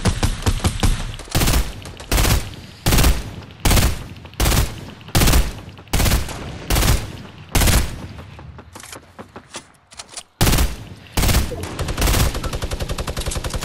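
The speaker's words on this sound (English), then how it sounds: "Just keep firing, get that shot." Rapid bursts of loud gunfire in a Fortnite Battle Royale squads match, repeating in a fairly regular rhythm of sharp shots with brief gaps, ending in a fast sustained volley.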